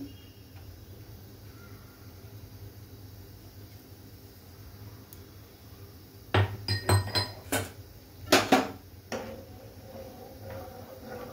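Fresh tomato soup being stirred in a cooking pot, a quiet simmering background broken by a run of clinking metal spoon knocks against the pot rim, close and sharp.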